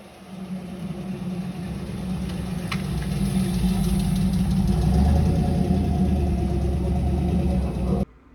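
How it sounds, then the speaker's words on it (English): A Trans Am engine idles with a lifter tick, a steady close rumble with a faint rapid ticking. The rumble swells slightly before cutting off abruptly near the end. "the lifter tick was back again, unfortunately"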